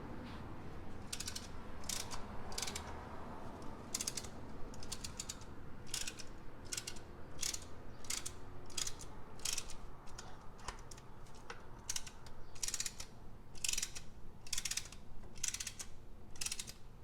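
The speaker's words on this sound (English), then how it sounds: "You need your brake tool like this. Goes in like so. And then as you crank it, it pushes the piston back in." A brake piston compressor tool is cranked to push a front caliper piston back on a Volvo S60 Turbo, giving a steady run of ratcheting clicks in quick bursts over a faint background hum.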